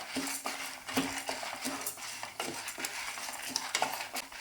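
Rice and roasted sesame seeds being dry-roasted together in a pan for idli podi, with quick rustling stirs and light spoon-on-metal clinks over a soft frying hiss, near and with no talk.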